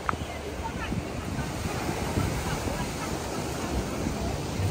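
High-tide sea waves surge onto the shore at Boa Viagem beach in Recife, a loud, steady broadband wash of churning water and surf that continues without a break throughout.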